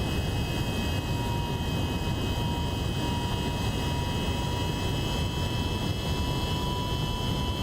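McDonnell Douglas MD-11 freighter airliner flying in X-Plane 12, a loud, steady broadband roar of engines and wind with a faint constant tone, unchanging and without voices.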